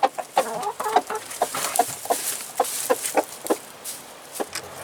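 Several chickens clucking inside a straw-bedded coop, a steady run of short, close, fairly loud clucks in uneven rhythm with no talking.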